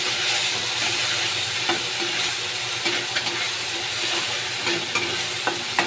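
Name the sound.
ginger, garlic and chili stirred while frying with tomato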